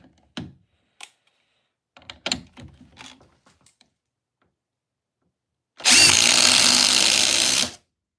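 RIDGID 4-mode impact driver racing a DeWalt: scattered clicks and knocks of handling give way to a loud, continuous buzzing rattle of driving that lasts about two seconds, then cuts off.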